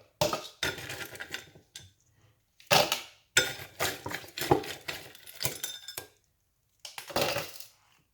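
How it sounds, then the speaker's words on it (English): Several separate bursts of clattering, rattling impacts as ice cubes tumble into a blender jar, with short silences between drops. "I'm gonna get some ice, put it inside of the blender."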